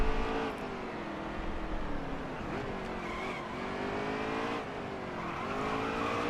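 Race truck engine roaring steadily in NASCAR Heat 3, with rising and falling revs and tires scrubbing through corners, continuous and close.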